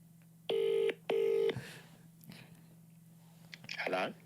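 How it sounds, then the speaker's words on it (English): Two clear telephone dialing tones beep in quick succession, close and loud, followed by quieter rustling and a short burst of muffled sound. "Let me just give him a ring."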